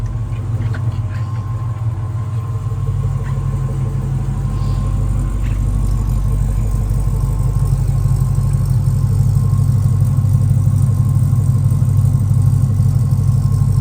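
A 1968 Pontiac Firebird with a 6.0L V8 and automatic transmission idles with a steady, deep, even rumble, close and continuous throughout with no voices.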